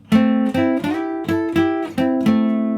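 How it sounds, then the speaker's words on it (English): A two-voice melody harmonized in thirds moves in parallel, each note sustained and clearly separated, about seven notes in a steady rhythm with no talking. "That's a melody being harmonized with thirds."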